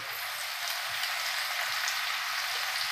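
Onions sautéing in a pan for a cauliflower and green peas curry, giving a dense, steady crackling sizzle with no pause, close and fairly loud.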